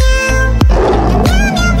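A cat meows loudly and close up in a cartoon scene with a father cat and kitten, several drawn-out cries in quick succession.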